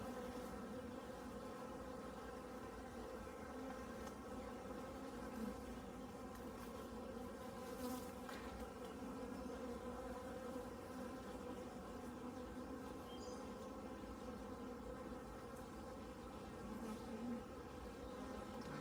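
Honeybees buzz steadily around an opened hive that is swarming or about to swarm. The low, dense drone of many bees is constant and faint, heard alone with no talk.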